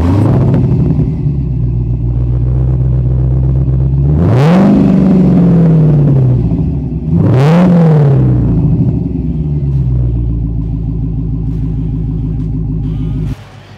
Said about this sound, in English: we have our dual exhaust systems, which sound fantastic